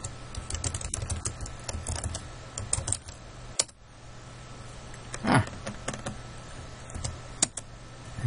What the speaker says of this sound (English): type in the new receiver